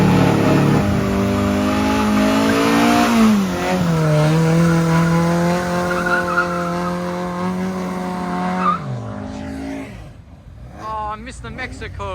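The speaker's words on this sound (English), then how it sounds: "there's a Ferrari going" Ferrari driving past at a classic car show, a loud engine note rising and falling as it passes close by, with people talking over it throughout.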